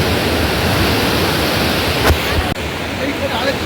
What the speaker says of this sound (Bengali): এই যে বোল্ডারগুলো আছে সব ভেদ করে জলটা চলে আসছে